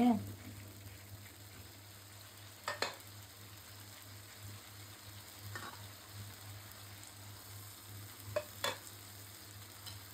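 Shing fish with potato and tomato sautés lightly in a pan, making a quiet, low sizzle broken by a few soft stirring scrapes and knocks.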